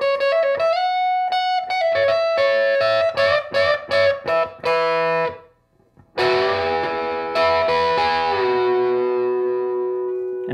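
Electric guitar played through a Lil Trees Studio Friend distortion pedal, playing lead lines: sustained, singing distorted notes and quick runs, loud and close, with a brief pause before a ringing chord rings out and decays.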